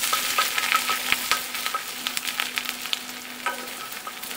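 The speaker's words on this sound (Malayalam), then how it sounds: "എന്നിട്ട് ചെറുതായിട്ട് ഒന്ന് വഴറ്റി കൊടുക്കുക" Curry leaves and chopped green chilies sauté in hot coconut oil for a Kerala-style beef fry, a continuous soft sizzle broken by repeated scraping stirs of the spoon against the pan, with no one speaking.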